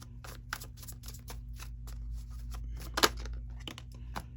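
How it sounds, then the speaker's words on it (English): Tarot cards being shuffled by hand, a run of quick crisp riffling and flicking bursts with one sharper snap near the end, close and fairly quiet over a steady low hum, no talking. "before I shuffle and say it"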